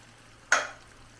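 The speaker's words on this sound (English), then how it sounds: "so pouring my baked bean now guys" Baked beans are poured into a hot pot, giving one short, bright sizzle and wet plop that fades quickly into a quiet background.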